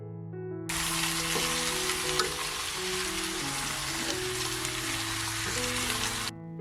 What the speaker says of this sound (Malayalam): മട്ടൻ ചേർത്ത് കഴിഞ്ഞ് സ്റ്റവ് ഒരു ഹൈ ഫ്ലെയിമിൽ വെച്ച് 3-4 മിനിറ്റ് നല്ലപോലെ വഴറ്റി കൊടുക്കണം